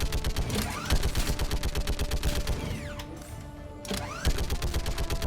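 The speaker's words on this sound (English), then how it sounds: "Has this muzzle flash, I can't see where I'm shooting." The Typhoon gun in Mass Effect Legendary Edition fires long, rapid automatic bursts with a dense mechanical rattle, loud and close, with a short pause before the firing starts again.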